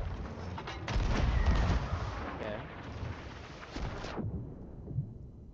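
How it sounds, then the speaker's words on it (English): Ship cannons fire in a naval battle video game, a string of deep booming shots and rumbling blasts that swell and fade over several seconds at moderate loudness, with voices talking over parts of it. "this is my first cannon shots of the night"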